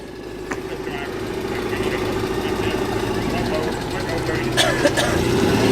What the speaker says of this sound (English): A distinctive air-cooled engine note of this beautiful left-hand drive